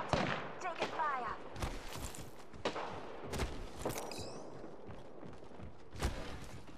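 Gunfire in the Apex Legends video game, with a scattered run of sharp shots and bursts over a busy background of mechanical clatter and movement, no talk.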